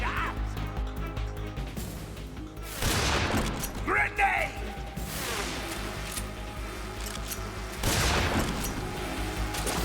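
Gunfire and a grenade blast in a video game virtual mission, with a few sharp broadband shots and bursts spaced across the clip and a louder explosive crack near the end, heard under a steady game background.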